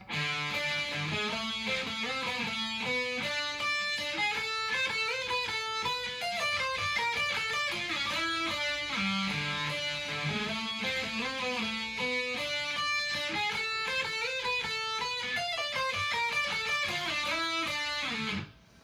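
A guitar riff repeats continuously, with strummed chords and sliding notes at a steady moderate volume and no talking.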